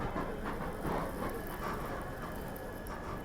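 Train departing Kanpur junction at night, heard from on board as a low, steady rumble of rolling wheels and carriage noise with faint rhythmic clatter, fairly quiet throughout with no talking.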